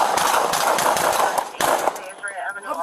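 A gunshot fired at a suspect at an apartment building entrance during a police chase, heard as a loud burst of sharp cracks in quick succession, with more shots after a short pause and then a quieter tail.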